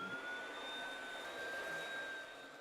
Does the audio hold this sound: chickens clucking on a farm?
no